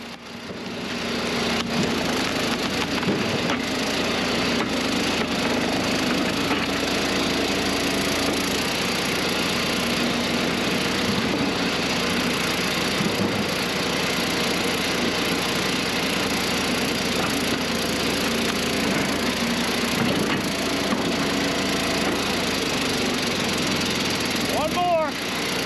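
An Eastonmade 12-22 log splitter with a standard 7-way box wedge splits big wood into home heating firewood, its engine droning loud and steady throughout with a low rumble and brief strain near the end.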